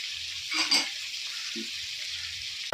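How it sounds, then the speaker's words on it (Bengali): Tomatoes and chopped chilli fry in a pan for a curd and okra dish, a soft, hissing sizzle broken by a couple of light stirring scrapes, quiet and close with no voices. "আমি টমেটো দিয়ে নেবো আর কুচো করা লঙ্কা"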